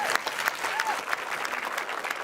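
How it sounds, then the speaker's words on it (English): A conference panel audience claps steadily, a dense wash of applause from a large hall with a presenter's voice briefly audible over it. "Nairi Adamian, let's give her a round of applause."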